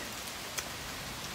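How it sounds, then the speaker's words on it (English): Heavy rain pouring down outside, a dense continuous hiss of falling water at even loudness, brief and unbroken, with no voices. "it's pouring rain"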